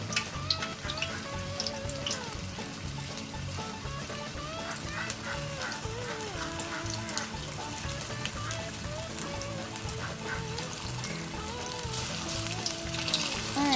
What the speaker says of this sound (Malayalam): നല്ലോണം ചൂടായതിനു ശേഷം ഒരു ഉരിഞ്ഞ് വെച്ചിട്ടുള്ള പഴം നമുക്ക് അതിലേക്ക് ഇട്ട് കൊടുക്കാം